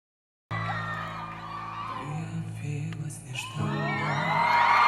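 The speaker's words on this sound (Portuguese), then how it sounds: "a galera gritando, não tô ouvindo nada" A live concert crowd erupts in screams and cheers after a sudden start, whoops and yells swelling louder toward the end over music from a live performance.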